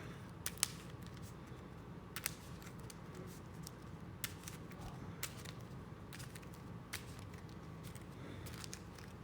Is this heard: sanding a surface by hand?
no